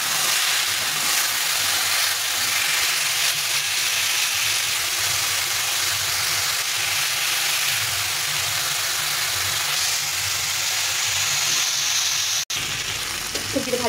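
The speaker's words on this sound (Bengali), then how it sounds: "দিয়ে এটাকে আবার ভেজে দিতে হবে" Mixed vegetables frying in a pan for a Bengali vegetable fish curry, a steady close sizzle and hiss running unbroken for the whole stretch, with a brief clatter near the end and no talk.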